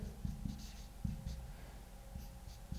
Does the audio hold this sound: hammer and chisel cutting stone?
no